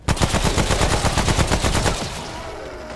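Close, loud rapid-fire gunshots from a weapon in Remnant From The Ashes, a fast string of about a dozen shots over two seconds before ringing off into a quieter tail.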